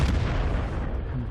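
Heavy gunfire from a TOG II tank's main gun in World of Tanks, a dense, booming low-end blast that fills the short moment and then fades, with no voices over it.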